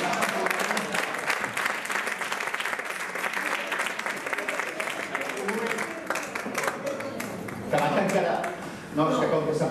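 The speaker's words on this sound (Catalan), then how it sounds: "I ara podríem saludar fins i tot i aplaudir la Rosa Maria Rovira." An audience at a Catalan political gathering gives sustained, dense applause, crisp claps rising and falling with a few louder bursts, while voices murmur underneath.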